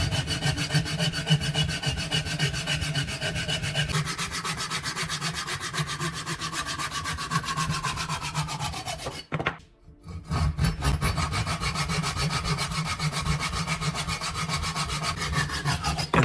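An old, restored handsaw cuts through wood in steady, rapid back-and-forth strokes, close and loud, with a brief pause partway before the sawing resumes.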